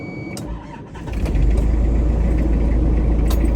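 A diesel Japanese camper van engine cranks briefly in cold weather, catches, then settles into a loud, steady, close idle rumble.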